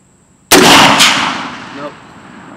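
A single loud, close SIG716 Patrol rifle shot aimed at swinging steel targets at an outdoor range, with a sharp crack followed by a long rolling echo.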